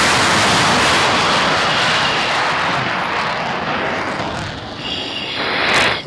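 A Dassault Rafale fighter jet roars loudly through its takeoff run, the broad engine noise holding steady and then easing as a thin whine rises later, with no voices heard.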